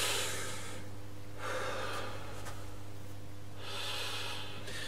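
A singer takes slow, deep diaphragmatic breaths during a voice lesson, two or three long airy inhale-exhale cycles heard close up over a faint steady hum, with no talking.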